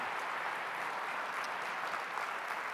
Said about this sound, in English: So give him a great round of applause,